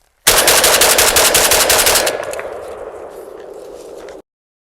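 A JTS AK12 airsoft rifle, worn and partly broken, fires a rapid full-auto burst through a 10-round magazine, loud and close; the rattle of shots gives way to a softer whirring of the mechanism before stopping abruptly.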